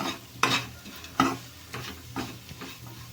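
Bitter gourd and dried fish stir-frying in a pan, a steady sizzle broken by several distinct scraping stirs at uneven intervals, close and moderately loud.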